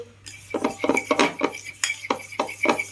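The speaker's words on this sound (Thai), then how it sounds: "แม่ก็จะใส่น้ำตาลลงไปคนให้น้ำตาลให้มันละลาย" A spoon stirs sugar in a metal pot to dissolve it for pumpkin custard, scraping and clinking against the sides in quick repeated strokes, close and fairly loud, with no talk.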